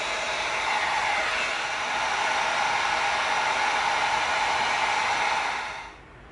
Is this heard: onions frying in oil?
no